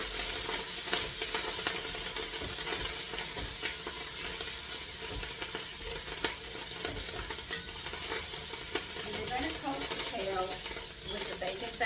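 Kale frying in bacon fat in a pan, with a steady loud sizzle and crackle and occasional stirring scrapes, continuing throughout.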